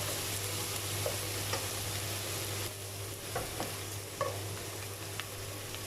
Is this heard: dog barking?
no